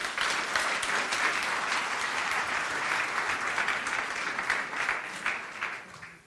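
A church congregation gives steady, dense applause that holds at an even level for several seconds before tapering off at the end, with no voices over it.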